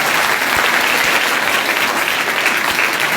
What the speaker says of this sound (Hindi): एक बार उनके लिए जोरदार ताली